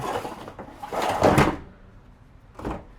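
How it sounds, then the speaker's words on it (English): Handmade wooden ladder box sliding in and out of a Ford Transit Connect van's cargo compartment: scraping, rumbling slides with a louder thump midway, then a brief knock near the end, close and alone. "I made the box for the ladder first, and it just slides in and out."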